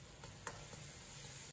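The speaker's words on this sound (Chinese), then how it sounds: "放入准备好的剁椒， 继续翻炒扒拉1-2下" Chopped chili being stir-fried in a wok, a quiet steady sizzle with a couple of soft scraping stirs, alone and close.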